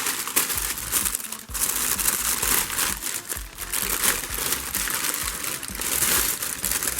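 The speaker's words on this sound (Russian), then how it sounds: "здесь у нас упакованные в бумагу элементы" Paper wrapping around Bosch MUM4855 food processor parts crinkles and crumples continuously, loud and close, as the pieces are unwrapped, with no voices.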